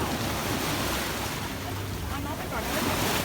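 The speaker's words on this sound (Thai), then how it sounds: "น้ำขึ้นแล้วก็มีคลื่นนะครับ" Steady wash of rough sea waves breaking and churning nearby at high tide in the rain, with wind noise buffeting the microphone throughout.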